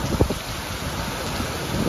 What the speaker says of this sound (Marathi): आमच्याकडे तर मुसळधार पाऊस चालू आहे.